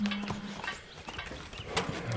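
Donkeys and horses walk into their barn stalls at breakfast time, their hooves thudding and clopping unevenly against a rustling barn background with a few animal calls mixed in.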